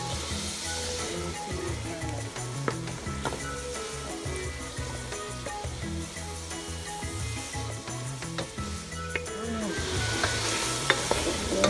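Onions frying in a pot for Nigerian jollof rice, a dense continuous sizzle with the repeated scraping and knocking of a stirring utensil throughout, close and steady.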